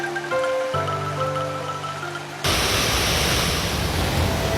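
Curup Gangsa waterfall in Way Kanan, Lampung, where the Wai Tangkas river drops about 50 meters across a 20-meter width, gives a broad, steady roar of rushing water that rises sharply midway and becomes loud and continuous, after faint tonal music at the start.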